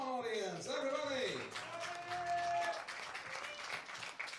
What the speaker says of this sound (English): Applause for them all